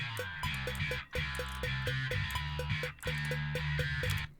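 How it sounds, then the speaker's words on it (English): Distorted bass guitar track played back in Cubase, a dense gritty low line with steady repeated notes and brief gaps, loud and continuous with no talking. "So if we go to this distorted bass here,"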